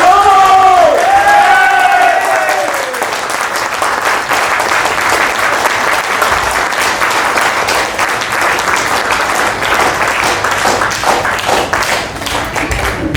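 A large audience at a network marketing company's get-together trip breaks into loud, sustained applause with some cheering. The clapping follows a brief voice at the start and stays thick and even to the end.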